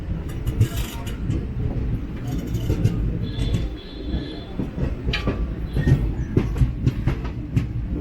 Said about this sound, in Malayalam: അടുത്ത കൂടെ ഏതൊരു ട്രെയിൻ പോകുന്നു